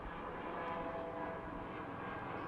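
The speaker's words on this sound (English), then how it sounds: "Helicopters." Helicopter flying overhead on a stroll through a seaside village, a steady, loud rotor and engine drone holding throughout without any voices.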